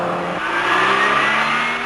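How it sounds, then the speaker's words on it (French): A 1985 Peugeot GTI hatchback engine accelerates hard, its rising raspy wail climbing steadily in pitch, close and loud, with a brief shift-like dip early on. "Le moteur Peugeot, plus rageur que musclé, est bien épaulé par une boîte impeccablement étagée."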